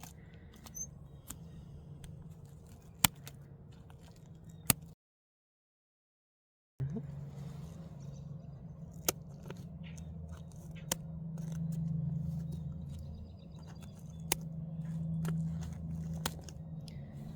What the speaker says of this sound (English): Got my scissors in my hoodie pocket. You can just use a pair of kitchen shears.